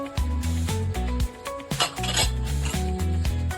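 Spices with turmeric and red chili powder being stirred in a pressure cooker pot: a continuous metallic scraping and clinking of a spoon against the pot, with rhythmic knocks, close and fairly loud.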